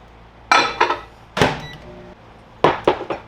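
Bottle of plastisol soft-bait lure plastic shaken by hand in a workshop to mix separated color: three bursts of sloshing, knocking rattles, close and fairly loud, with quiet gaps between.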